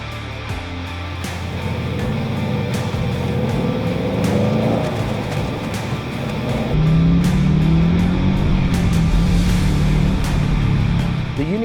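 Subaru STI fitted with a UniClutch Track clutch driving on a road, a steady close engine drone with tire and road noise, pitch shifting as the car accelerates and changes gear.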